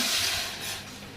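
Tomato sauce hitting a hot pot, a broad, steady hiss of sizzling that stays strong and fades slightly, close and alone.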